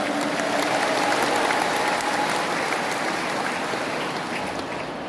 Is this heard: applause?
yes